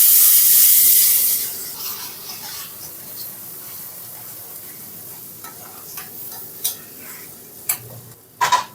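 Ground tamarind paste for easy puliodarai sautéing in a pan on the stove, opening with a loud sizzle that quickly dies to a quiet simmer, broken by a few sharp stirring clicks near the end.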